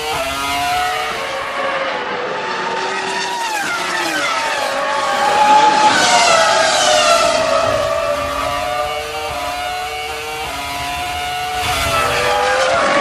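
Formula 1 cars racing at the 2004 San Marino Grand Prix, a pack battling for fourth place, their high-pitched engines wailing steadily and loudly throughout, pitch rising and falling as cars pass and change gears.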